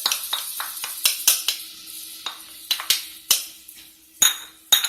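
Chopped onion and jalapeno pepper hitting hot olive oil in a pan, with a steady sizzle broken by repeated sharp clinks and scrapes of a utensil stirring, loud and close.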